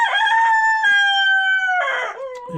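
A heavy Viadont Silver rooster crows loud and close, a long drawn-out cock-a-doodle-doo with a rising start and a falling, wavering finish, alone without voices.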